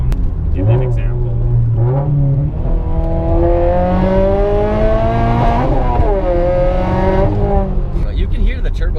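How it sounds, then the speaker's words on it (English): A loud turbocharged car with a straight-pipe exhaust from the turbo back, fitted with a Rocket Bunny body kit, revs up and down in strong rising and falling sweeps while people talk over it. "We're basically straight pipe from the turbo back, so that's why it's so freaking loud."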